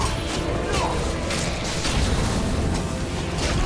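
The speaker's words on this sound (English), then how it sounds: "explosions." Explosions and crashing combat effects in Elder Scrolls Online, a busy stream of booms, whooshes and clanking hits layered over game music, with voices talking over the noise.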